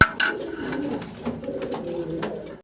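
A pair of indigo Danish pigeons coo close by, with soft, low repeated cooing, a few sharp flutters or clicks, and faint background noise.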